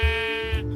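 Sheep bleating in Minecraft, a single close, loud, wavering baa with a strongly harmonic, nasal tone held for nearly a second.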